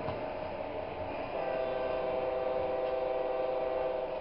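A Bachmann Blue Lightning model diesel locomotive hums with a steady, thin engine drone that rises slightly partway through, close and moderately quiet, with no voices.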